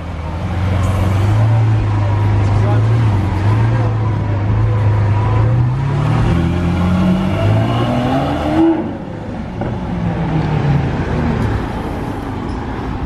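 Escort cars for a Lamborghini Veneno Roadster driving past on a street in Juan-les-Pins, loud engine roar with revving that rises and falls as the vehicles pass close by.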